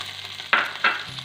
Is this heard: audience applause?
no